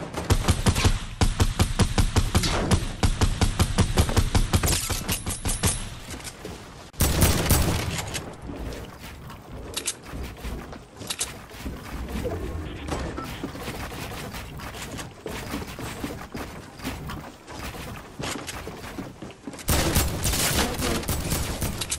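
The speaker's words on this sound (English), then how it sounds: "Oh, you trying to shoot me now?" Video game gunfire rattles in loud, dense bursts of rapid shots, with short pauses between volleys, close and dominant throughout.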